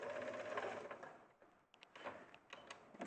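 A domestic sewing machine running a short reverse stitch, its motor giving a quiet steady whir that breaks off into a few soft mechanical clicks and taps, faint and close.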